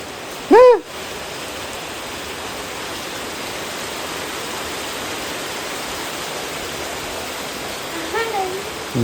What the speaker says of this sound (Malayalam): മഴയുടെ സൗണ്ട് കേട്ടോ